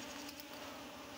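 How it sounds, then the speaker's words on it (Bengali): Honey bees hum steadily around an open hive, a soft continuous buzz close by that holds for the whole short moment. "এই যে মৌমাছি ওর চারপাশ দিয়ে উঠতেছে, কিন্তু কামড়াচ্ছে না।"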